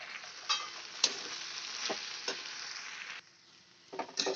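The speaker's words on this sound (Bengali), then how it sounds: "এবার ভালো মতো নেড়ে নেব।" Fried lentil bori and cauliflower stems are stirred in a sizzling pan, with a steady moderate frying hiss broken by spatula scrapes and clicks; the sizzle briefly drops quieter before the stirring resumes.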